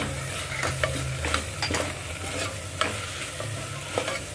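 Ground spices (coriander powder, Kashmiri red chilli, fennel powder, turmeric) sizzling in a pan for a mutton curry, with steady frying hiss and several soft scraping stirs at irregular intervals.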